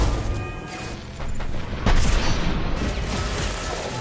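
Heavy weapons fire and explosions in Mass Effect 2 rumble as booming blasts and bursts of shots, loud and dense, with one sharp hit near the middle over continuous battle noise.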